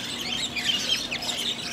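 Birds at an outdoor flea market give off a steady stream of high chirps and clucking calls, close and fairly loud, with no talking over them.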